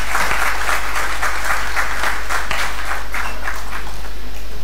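An audience at a diabetes health talk claps steadily after the presentation ends, loud and close, with a constant low hum underneath.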